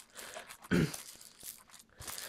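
Packaging of a T.Bone SC 440 USB microphone being unwrapped, with close, quiet crinkles and a brief louder tearing crunch, followed by scattered small rustles and clicks.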